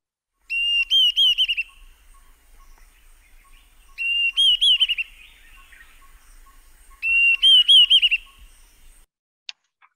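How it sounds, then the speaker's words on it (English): A Diederik cuckoo calls on Wasini Island, Kenya: three clear bursts of rapid, rising whistled notes separated by pauses, with the bird sounding close and bright against a quiet background. "Yeah, what a beautiful sound, the didi cuckoo."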